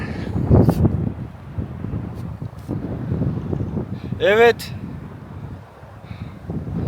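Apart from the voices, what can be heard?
strong wind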